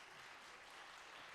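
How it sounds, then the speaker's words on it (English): Audience applause for young performers at a live music show: a brief, dense, steady wash of clapping, fairly faint and with no voices over it. "Let's give these kids a big round of applause real quick"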